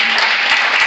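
A church congregation applauds to acclaim the Lord, a brief, loud burst of steady massed clapping.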